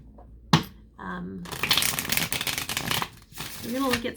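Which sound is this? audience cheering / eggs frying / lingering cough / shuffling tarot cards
shuffling tarot cards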